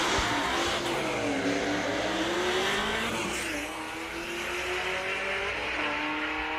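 A Ford F-150 drag racing in the left lane at Greer Dragway gives a loud, sustained engine roar whose pitch climbs steadily as it accelerates down the strip, with a faint dip midway before it pushes on.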